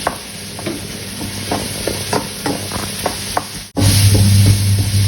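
Sliced sweet onion stir-fried in a hot wok for Thai basil pork, a loud steady sizzle broken by repeated scraping stirs of the spatula, with a brief cut followed by an even louder sizzle.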